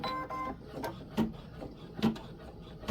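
A Baby Lock Flare embroidery machine stitches a satin stitch, giving quiet mechanical whirring with a few louder clicks and taps at irregular intervals.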